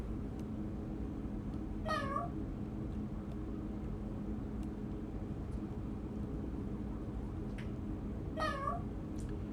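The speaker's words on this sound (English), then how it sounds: "So we'll just put this meow sound in here." Two short cat meows from a p5.js sound effect, spaced several seconds apart, over a constant engine-like drone.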